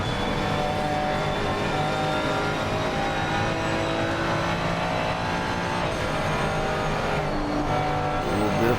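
GT3 race car engine roaring on board around the Bathurst circuit in Assetto Corsa Competizione, a loud continuous drone rising and falling through gear changes and revs for the whole stretch, with no voices.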